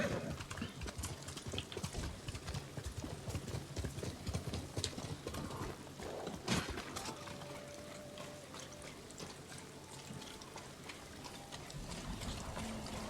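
Steady clip-clop of galloping horse hooves in Ghost of Tsushima over a busy game soundscape, with scattered effects and a sharp burst midway.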